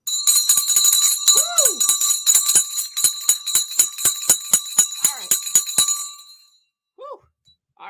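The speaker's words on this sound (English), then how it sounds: "I should do the bell really hard this time because it is the last bell of June" A stock market closing bell is struck hard by hand, giving a loud, rapid run of about twenty ringing metallic strikes over six seconds before fading, followed by a faint brief voice.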